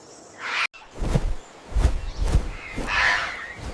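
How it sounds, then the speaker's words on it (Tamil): A scarlet macaw in the Amazon rainforest gives a few harsh, raspy squawks in an uneven series, fairly close and clear against quiet forest background, with no talking. "அமேசான் பறவைகளில் அரசன் என்றால் அது இந்த ஸ்கார்லெட் மக்கா"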